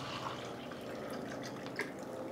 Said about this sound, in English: Let's fill this thing full of water.